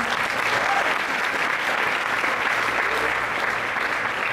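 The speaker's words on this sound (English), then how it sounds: "everybody should sort of clap for themselves for being here" Breakfast-event audience at an American Cancer Society gathering applauding, dense continuous clapping at close range with no pause.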